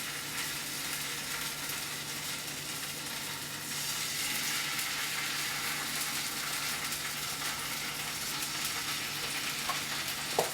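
Thin-sliced russet or Yukon potatoes fry in a hot pan with a steady, loud, continuous sizzle throughout, close by, with a slight rise in intensity partway through and no talking.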